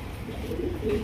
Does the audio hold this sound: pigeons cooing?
yes